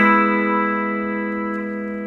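An electric guitar sounds a single sustained, slowly decaying note or chord from a verse riff, with no talking.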